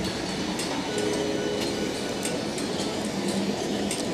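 A tram pulls away from Flinders Street Station in Melbourne, with a steady rolling rumble, regular wheel clicks and faint high squeals over the surrounding street noise.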